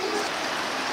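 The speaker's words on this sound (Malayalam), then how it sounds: "രാത്രിയിൽ മഴയാണ്" Night rain falling steadily at a jungle inn in Kanthalloor, a dense, even hiss of drops on surfaces, close and unbroken, with no voices.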